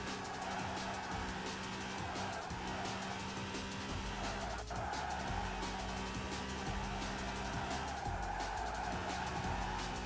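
Honda NSX race car in Gran Turismo 5, engine droning steadily with tire skids and squeals throughout, dense and continuous without pause.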